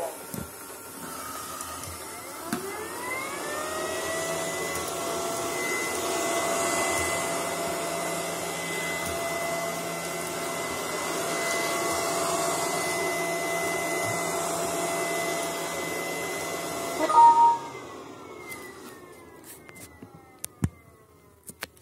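A Xiaomi Viomi VXRS01 robot vacuum cleaner starts up and runs steadily in spot cleaning mode, giving a continuous whirring motor and brush hum that holds for about fifteen seconds, then a few clicks and bumps as it stops.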